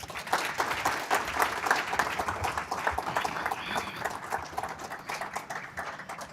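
Sustained audience applause at an awards ceremony, a dense wash of many hands clapping steadily and evenly for the full stretch, moderately loud and continuous with no break or talk over it.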